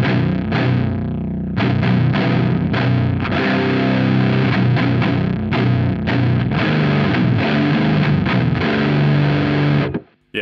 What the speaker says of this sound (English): let's just try it all the way up and see what we get